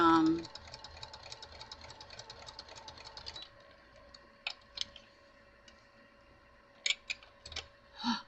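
A home sewing machine stitches around a roughly 10-inch square fabric pocket, its rapid ticking run steady for about three seconds, then short bursts of stitching and clicks between pauses, with speech heard faintly in places.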